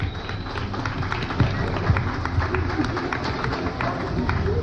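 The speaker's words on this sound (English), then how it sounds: "Let's give them all a big round of applause" Audience at a youth beef cattle show applauding, a sustained wash of clapping from a crowd in an indoor arena, fairly close and steady.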